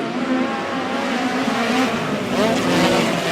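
Several midget race cars accelerate hard off the start of a heat race at Airport Raceway, engines rising and whining in pitch as they pull away together, loud and close.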